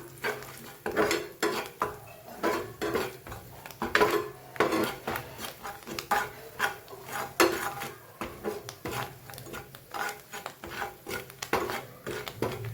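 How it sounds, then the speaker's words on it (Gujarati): Masala of cumin, turmeric and red chili powder is stirred and roasted in a pan over a low gas flame, giving a rapid, rhythmic run of scraping and clinking utensil strokes, close and steady, with no talking. "ગેસની ફ્લેમ ધીમી રાખી મસાલાને થોડો પછી આપણે શેકી લઈએ"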